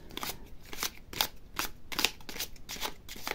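A deck of tarot cards is shuffled close by and fairly softly. The cards riffle in quick repeated bursts of crisp flutter, separated by brief pauses.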